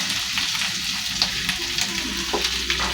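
Cauliflower and potato fry with turmeric in a pan, a steady close sizzle with a few soft scrapes and taps of stirring, no voices.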